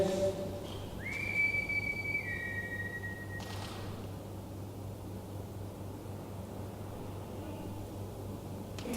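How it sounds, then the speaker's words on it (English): A man whistles a single steady, rising tone for about a second and a half over a constant low hum and hiss in a quiet room during a paranormal investigation, then only the background drone remains. "You do one of your famous whistles"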